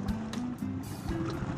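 Short wash of water as a small paddle boat (bangkang sagwanan) is pushed along, soft splashes and sloshing close by with a few faint tonal background sounds.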